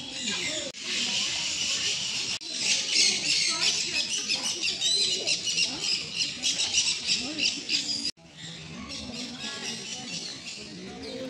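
Birds squawk and chirp in a dense, continuous chorus at a bird park with macaws, with some calls close and others further off. A voice sits under the calls at times.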